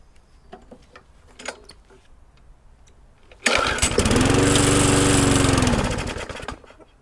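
Scrap lawnmower engine with a wet, leaking primer bulb bursts into life after a few faint clicks, running loud and rough for about three seconds before dying away.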